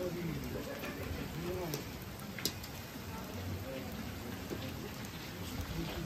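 Steady rain falls on an outdoor ground during a departmental championship playoff match in Haute-Garonne, a constant wash of hiss and patter with a commentator talking over it throughout.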